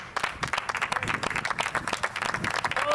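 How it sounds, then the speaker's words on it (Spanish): Crowd applause for a player leaving the court during a 6v6 football match, a dense burst of many hands clapping steadily for about three seconds with no talk over it. "Ey, aplaudámoslo, aplaudámoslo."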